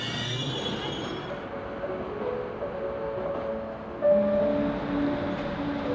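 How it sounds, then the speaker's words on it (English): A rail journey from Biarritz to Bayonne heard from inside the train, with a steady low rumble of wheels on track, faint wheel squeals and a brief louder clunk partway through. "I gotta take the train to Bayonne"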